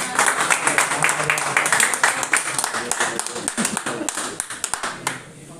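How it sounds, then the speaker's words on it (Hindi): A seminar audience of bird keepers in Delhi claps in a dense, steady burst of many hands that thins out and stops near the end, with some voices mixed in. "तो इनके लिए भी एक ताली बनता है भाइयों।"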